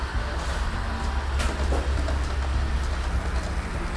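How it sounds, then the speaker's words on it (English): Model train rolling along its tracks on a layout, a steady low rumble with a faint hiss above it, continuous and fairly close. "This train is running down the tracks and I think it just came through."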